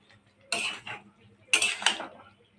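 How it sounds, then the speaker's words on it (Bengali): Dried fish curry with pumpkin, potato and vegetable stems being stirred in a pot, two bursts of metal utensil scraping and clinking against the pan, close and clear with nothing else over it. "সুন্দর করে নাড়িয়ে চাড়িয়ে নেব।"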